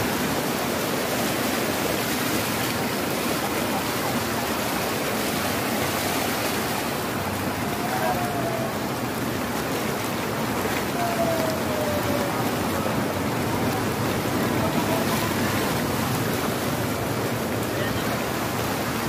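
Flooded, overflowing river rushing past, a loud continuous broadband roar of churning water heard nearby, with faint talk in the background.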